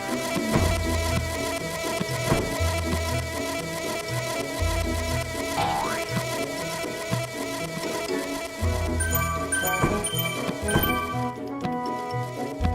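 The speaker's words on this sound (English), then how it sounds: "Just loud bees." Loud insect buzzing from bees in a video game drones continuously over a layered game soundtrack with tonal melodic notes.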